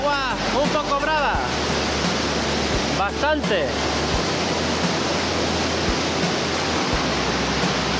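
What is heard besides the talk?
rough river water rushing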